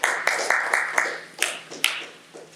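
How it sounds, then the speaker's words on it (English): Applause rounds off a Toastmasters club meeting with table topic speakers, made up of a handful of sharp, separated claps spaced irregularly, close and moderately loud. "Another big round of applause for Toastmaster Joy and all the table topic speakers"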